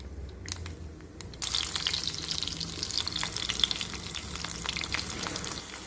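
Cumin, mustard seeds, a pinch of fenugreek and crushed unpeeled garlic hit hot oil with a sudden loud crackling sizzle that sets in after a quiet moment and continues steadily with small pops.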